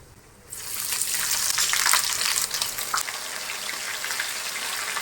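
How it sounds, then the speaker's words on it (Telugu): Ginger garlic paste fries in hot oil for chicken pickle, the sizzle bursting in after half a second and then crackling loud and steady. "ఈ అల్లం వెల్లుల్లి పేస్ట్ కూడా ఫ్రై అయ్యేంత వరకు చక్కగా నీట్గా ఫ్రై చేసుకోవాలి"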